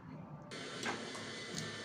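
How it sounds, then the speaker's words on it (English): A sewing machine stitches a fabric sleeve with a steady mechanical whir that starts abruptly partway through and runs on close and fairly quiet, with no talking. "let me go to the sewing machine and sew it"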